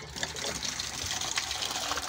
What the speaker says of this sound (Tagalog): dire-diretso na po yung daloy ng tubig papunta doon